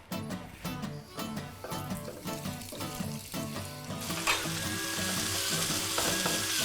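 Floured beef strips frying in a very hot pan, with brisk stirring and scraping in a quick rhythm, then a louder, steady hiss taking over near the end, heard close with no talking.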